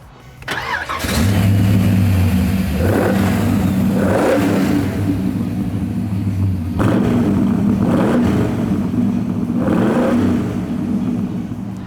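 An AC Cobra MkIV with its rear tail boxes deleted, leaving two of four silencers, fires up and is blipped repeatedly. Loud, raspy exhaust surges rise and fall over a rumbling idle, close by.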